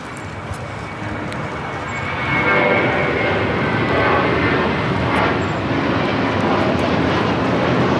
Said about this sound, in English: This is the ultimate experience taking off to Fort Lauderdale. JetBlue Airways Flight 700 on an A321.